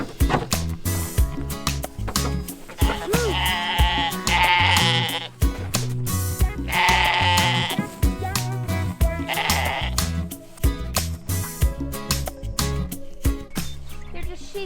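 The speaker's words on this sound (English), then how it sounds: "They're just sheep. Settle down." Katahdin feeder lambs bleat repeatedly in a receiving corral on a homestead, several loud, wavering calls close by over a busy background of other sounds.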